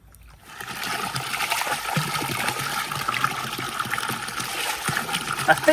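Steady splashing and running cold water poured over a dog on a farm in Thailand, moderately close, continuous for several seconds with a few louder splashes near the end.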